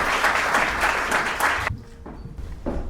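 A women's day celebration audience gives a brief round of applause, a dense burst of clapping that cuts off sharply, leaving a few scattered claps and stray noises.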